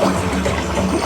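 Water jets of an interactive fountain at Moana's Journey of Water rush and splash in a steady, loud, close-up wash with no break.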